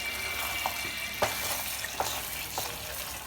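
A spoon scrapes browned bits off the bottom of a pot of kosha mangsho in a few sharp, separate strokes over a steady low sizzle.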